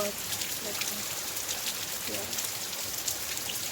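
Steady rain hisses down continuously, a dense patter on surfaces with a faint voice murmuring underneath.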